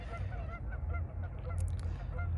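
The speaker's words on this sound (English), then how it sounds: "a little gang fight going on there between the ducks and the geese" Geese and ducks squabble nearby, with repeated sharp honks and quacks coming in quick, uneven bursts over a low background rumble, no talking.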